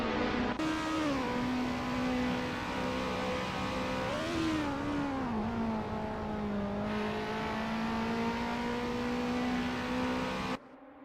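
Several Alpine A364 F3 race cars at Zandvoort in Assetto Corsa pull away together at a race start, a loud sustained engine drone rising and falling in pitch as they accelerate and shift, with no talk.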